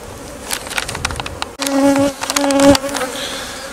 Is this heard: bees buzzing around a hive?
yes